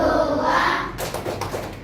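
Children in a primary school classroom perform a rhythmic Tepuk Pancasila clapping routine, a burst of sharp hand claps following a sustained stretch of chanting voices.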